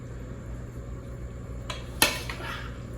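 A serving utensil scrapes and clinks against a dish as Greek pasta salad is portioned out in a quiet kitchen, with one sharp clink followed by softer scraping.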